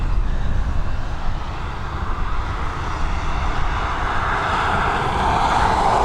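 A 14-year-old Airbus A330 registered in 2009, headed to Gran Canaria, roars on runway 10R at Dublin Airport, its engines giving off a loud, sustained rumble and whine that builds slightly toward the end, with no voices.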